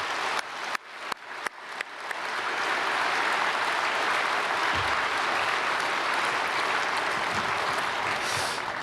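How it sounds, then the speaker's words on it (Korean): A church congregation at a Sunday worship service in Korea bursts into loud, sustained applause welcoming newly registered members, starting with a few scattered claps and swelling into a dense, steady roar that fills the hall. "크게 박수로 환영하겠습니다."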